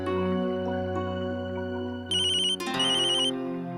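A phone ringtone plays a bright repeating electronic melody, loud and close, over a steady low hum, with no talking.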